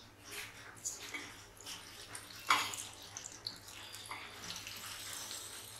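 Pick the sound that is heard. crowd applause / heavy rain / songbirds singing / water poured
water poured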